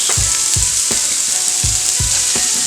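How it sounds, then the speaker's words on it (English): Onions and peppers sizzling in hot oil in a pot for Southern red beans and rice, a loud, close, steady fry broken by about six low thumps of stirring or vegetables dropping in. "now we're going to add vegetables in there. So there is our onions, our peppers,"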